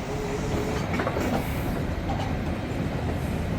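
A fast train rolls past in Carlisle, a steady, dense rumble of rail cars with faint clickety-clack holding at a constant level throughout, close by and with no voices.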